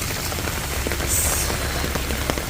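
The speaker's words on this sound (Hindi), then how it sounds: "गजब की बारिश हुई आज।" Heavy rain beats down steadily on surfaces outdoors at a protest, a dense continuous hiss and patter with no voices.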